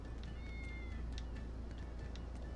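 A cat in the Tales of Berseria video game gives a drawn-out meow followed by a few shorter mews over a steady low background hum, moderately close.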